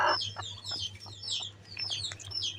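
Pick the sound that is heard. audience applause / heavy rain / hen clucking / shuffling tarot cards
hen clucking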